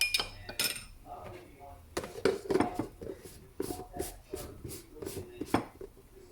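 A spoon clinks against a small dish while stirring cornstarch into cold water, a run of sharp, fairly close metallic taps at uneven intervals, quiet between strokes.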